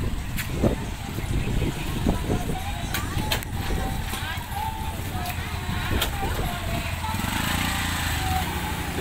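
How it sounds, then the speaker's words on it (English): Busy Cambodian market street at Psar Leu with tuk-tuks and motorbikes: a steady, loud engine drone with passing putters and revs close by, mixed with crowd chatter and people talking throughout. "Like I said, tuk-tuks and motorbikes"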